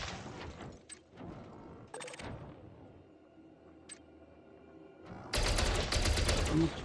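Space buggy weapons in the game Elite Dangerous fire in short bursts, with a few brief volleys early on, then a long, loud stretch of rapid automatic shots near the end over a faint vehicle hum.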